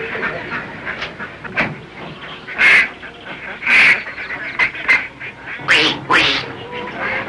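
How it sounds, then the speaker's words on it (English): A large flock of ducks quacks in loud, overlapping bursts, some calls sharper and closer than others, with no talking. "We have many, many ducks."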